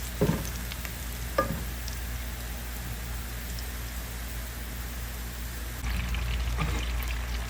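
Tomatoes tumble into onions sautéing in a pan for a bottle gourd curry. A sharp patter of pieces hitting the pan leads into a continuous sizzle that grows louder near the end, with no talking.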